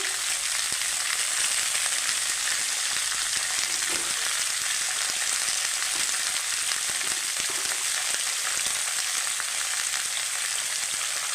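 Eggs frying in a pan while cooking a mixed poppy-seed dish, a steady, close sizzle that holds evenly throughout with a few faint stirring scrapes.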